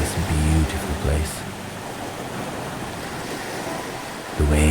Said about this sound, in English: The waves were crashing